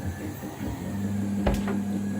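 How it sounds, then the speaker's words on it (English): Doors of a 3D printer enclosure are shut with a brief clunk and a softer follow-up knock, heard over the steady hum of the running printer with its bed heated. "I suppose I should shut the doors and leave it in peace."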